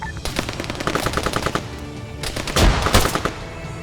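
Rapid bursts of machine gun fire rattle through an ARMA 3 firefight, with a sustained stuttering volley followed by a short pause and then heavier, louder shots booming close by, and no voices.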